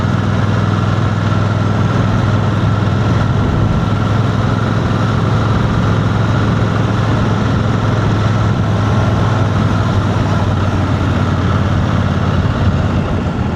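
A BMW 900 GSA motorcycle engine roars steadily while climbing into the DD Hills, a loud, continuous low drone that holds its pitch with no pauses or talk over it.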